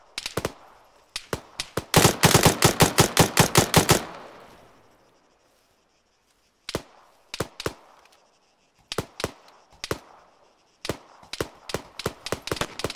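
Gunfire in the Arma 3 battle royale game: a rapid automatic burst of about a dozen loud, sharp shots, followed after a pause by scattered single shots and short bursts, some loud and some duller, with no talking.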